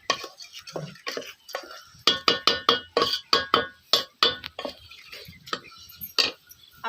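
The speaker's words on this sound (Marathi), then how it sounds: "आता हे मिश्रण आपल्याला चांगलं असं हलवून घ्यायचंय सगळा एकजीव करायचा आहे आपल्याला" A spoon repeatedly scrapes and clinks against a metal utensil while a spiced mutton biryani mixture is stirred, a steady run of sharp, close taps and knocks with no talking.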